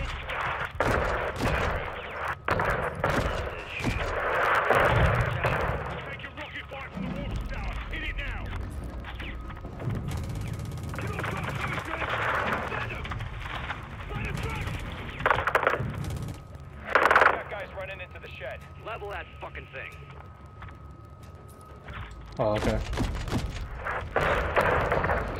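Gunfire from the Call of Duty: Modern Warfare 2 campaign, with repeated loud shots and booming bursts over a busy game soundscape, while voices talk over much of it.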